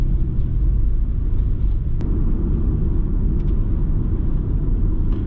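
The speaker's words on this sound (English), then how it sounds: "that is a quick little run around in the nearly no mileage Outback Sport" A 2001 Subaru Outback Sport with a 2.2 engine and only 27k miles cruises along, a steady, loud low rumble of engine and road noise heard from inside the cabin.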